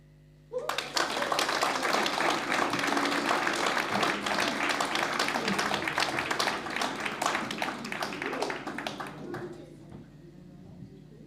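An audience at the Maurice O'Keeffe Festival launch night breaks into loud, dense applause that starts abruptly, holds steady for about nine seconds, then thins out and fades.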